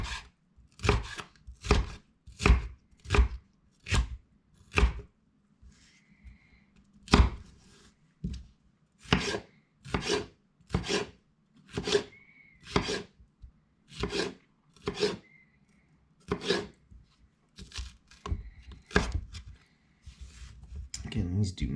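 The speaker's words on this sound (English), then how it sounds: "I think I'm going to strip them and cut them in half." A knife chops food for tacos on a cutting board, with steady, crisp chops in a fairly even rhythm that keeps going throughout.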